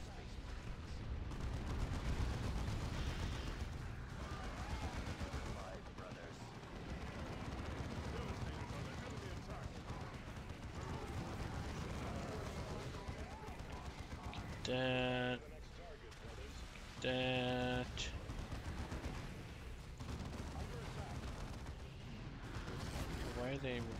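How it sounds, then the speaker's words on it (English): An artillery strike lands in the Warhammer 40k: Dawn of War 2 video game. Booming blasts and rumbling explosions roll through a dense, noisy battle mix, with voices talking over parts of it and two brief tonal bursts near the end. "artillery strike"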